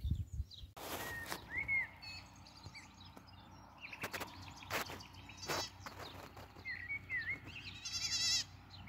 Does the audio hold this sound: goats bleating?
yes